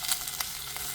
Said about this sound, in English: A nice sear.